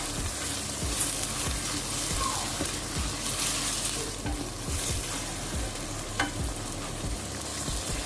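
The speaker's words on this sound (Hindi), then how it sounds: "और साथ ही हम इसमें जो है सब्ज़ मिर्च वो भी ऐड कर देंगे। और इसको अच्छे से भून लेंगे।" Keema with tomatoes and green chillies fries loudly in a close pan, a dense continuous sizzle with repeated scraping thumps of a spoon stirring the mixture.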